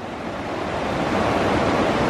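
A mountain stream rushes in a continuous, loud, close-up wash of broadband water noise, steady throughout with no voices.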